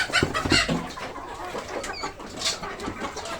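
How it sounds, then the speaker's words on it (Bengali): Desi chickens on a poultry farm cluck and squawk in busy, overlapping bursts, close and fairly loud, with no voices. "এখন মুরগিগুলো ছেড়ে দেবো ইনশাল্লাহ"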